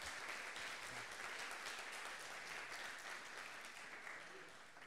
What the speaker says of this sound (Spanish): de nuevo un fuerte aplauso